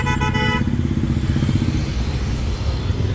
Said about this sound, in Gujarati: અમે હવે પાછું હોન્ડા ચલાવીને જાઉં.